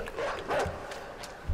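Dogs bark and yip in a video game, short scattered barks under excited talk from several players.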